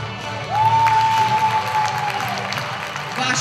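Audience clapping at the Miss CIS 2022 beauty pageant, a dense burst of applause rising quickly and holding steady for a few seconds, with a sustained tone sounding over it and a voice faintly in the background.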